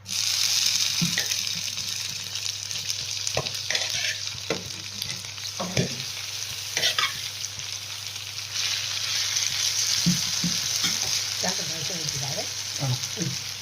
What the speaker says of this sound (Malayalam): നമ്മൾ ശകലം എണ്ണ ഒഴിച്ച് നല്ലപോലെ ചൂടായ നമ്മുടെ ആ വെണ്ടയ്ക്ക നമുക്ക് കോരിയിടാം.